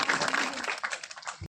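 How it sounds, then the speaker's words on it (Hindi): An audience applauds at a Kangen water (Enagic) business plan meeting, with dense, steady clapping for about a second and a half that stops abruptly. "एक बार फिर से ताली हो जाए उनके लिए।"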